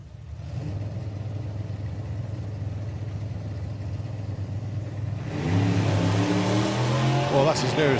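Gasser drag race cars run at a drag racing test day, with a steady engine rumble that swells louder about midway as a car revs and pulls away, and a voice talks over it.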